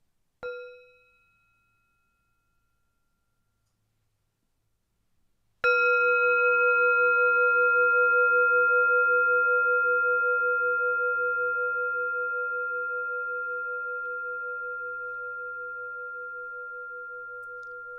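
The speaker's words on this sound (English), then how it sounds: "let's begin by listening to the sound of the bell" A meditation bell is struck twice: a short first ring fades within a second, then a louder strike at about five seconds rings on as a long, pure, steady tone that slowly decays for over ten seconds in quiet surroundings.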